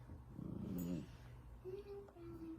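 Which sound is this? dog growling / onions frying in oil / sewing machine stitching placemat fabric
dog growling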